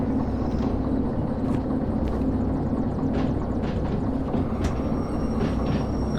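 Train moving in the video game Derail Valley, a continuous heavy rumble and engine drone held at an even, loud level, with a few brief hissing bursts over it.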